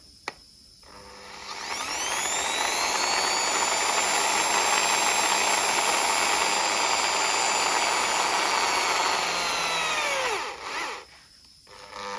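A power drill boring a 5mm hole during a Porsche 911 (996) restoration spins up into a loud, steady high-pitched whine that holds for several seconds, then winds down and stops.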